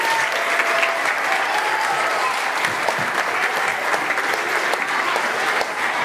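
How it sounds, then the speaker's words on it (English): Steady, sustained applause from a crowd of parents and grandparents at an event for children, dense even clapping filling the room without a break. "Let's give them another round of applause."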